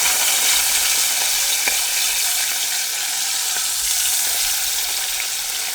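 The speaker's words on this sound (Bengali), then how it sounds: "বুঝছেন কত সুন্দর করে ভাজা দিতেছি" Tengra fish frying in a pan with oil, giving a steady, dense sizzle that stays even and fairly loud throughout with no voices.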